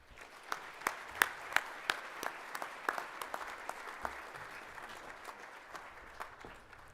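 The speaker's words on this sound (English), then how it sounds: "Contestants, please join me in a round of applause." Applause at a 4-H livestock judging awards ceremony, fairly faint and distant, with a few sharp nearby claps standing out early before the clapping thins into a soft fading patter.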